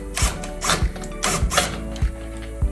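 A bolt being undone with a 10mm Allen key on a Beta X-Trainer cone valve cartridge, giving close, loud ratcheting clicks in a steady rhythm of about five strokes, each with a sharp metallic snap.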